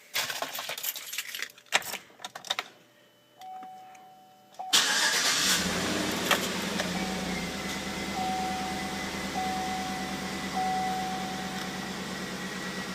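Cold start of a silver car with a six-speed automatic: a few clicks and short noises, a quiet pause, then the engine cranks and catches and settles into a steady close idle.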